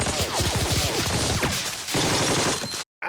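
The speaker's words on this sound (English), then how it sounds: "those are the big guns firing onto the beach, the big artillery" Heavy artillery on a TV war drama's soundtrack pounds a beach from far off, a dense, loud barrage of booms and crashes rolling continuously before cutting abruptly to silence.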